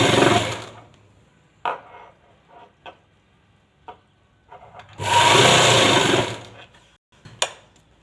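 A sewing machine stitches a lined belt in two short, loud bursts of rapid stitching, separated by quieter clicks and handling taps of the fabric and machine.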